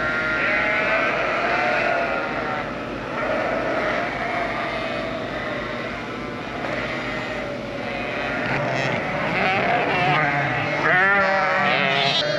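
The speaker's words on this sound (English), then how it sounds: "Sheep are definitely ready to come outside." Many sheep and lambs bleat over and over in a crowded barn during winter, overlapping calls near and far, steady and loud throughout, with a low mechanical drone underneath.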